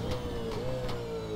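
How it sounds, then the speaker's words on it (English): Nissan Altima V8 Supercar engine in the rFactor 2 racing game, a steady loud drone held at high revs, with a smooth sustained engine tone and slight pitch drift throughout. "This is truly a great sound for a car, for a V8 supercar"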